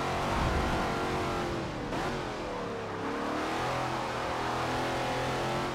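A Shelby Cobra with a 7.0-litre V8 in Forza Motorsport 7 roars at high speed on the Nordschleife, a loud, sustained engine drone with a brief pitch dip mid-run before climbing again, no talk over it.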